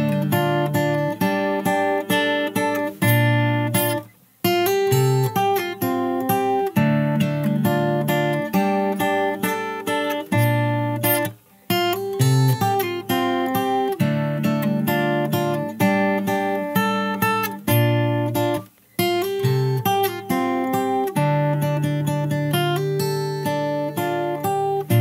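Fingerstyle acoustic guitar cover of a song playing the post-chorus, plucked melody over bass notes in a steady rhythm with a few brief pauses, close and alone without voices.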